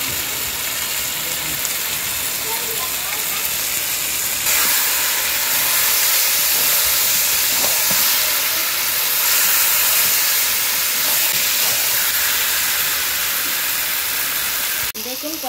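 Fish with ground garam masala sautéing in a pan, a loud steady sizzle and hiss running throughout with no clear speech.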